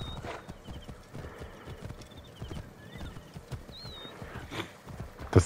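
Horse hooves and neighing in the Assassin's Creed Origins video game: a steady clip-clop of hoofbeats under game ambience, with short whinnies rising faintly over it and a louder thump at the end.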